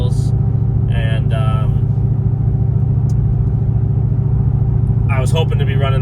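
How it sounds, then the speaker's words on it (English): A 2019 Ford F350 Power Stroke diesel pickup driving, with a steady, loud low rumble from the cab that holds constant throughout, while someone talks over it in bursts. "That's what I'm driving right now, is my 2019 F350 Power Stroke."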